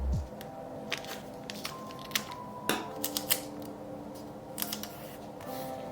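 Scissors snip paper for a Hobonichi Weeks planner, a string of quiet, crisp cuts and clicks at close range with light handling rustle in between.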